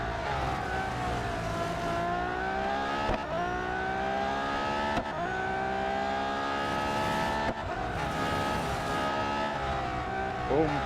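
Race cars in Real Racing 3 roar continuously with engines wailing and shifting pitch through gear changes, loud and up close over a lap, with brief dips at each shift.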